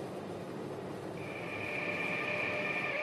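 Rolling train track noise from a game locomotive in an Indian train simulator, RG Train-Tech Demo, a steady rumble joined midway by a sustained high metallic whine, continuous and fairly loud with no talk.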